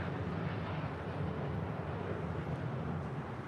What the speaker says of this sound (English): That is Cathay Pacific Flight 885 departing to Hong Kong on a 9-year-old 777-300ER in the One World livery.